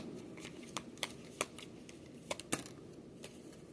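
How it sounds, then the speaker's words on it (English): Oracle and tarot cards are shuffled by hand, with a string of soft, irregular riffling snaps and taps at close range against a quiet background. "Let me shuffle"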